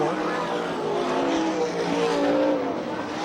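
360 sprint cars roar around a speedway in a USAC National/CRA race, a loud continuous high-pitched engine wail with shifting pitch as cars run the middle-to-high groove out of turn four.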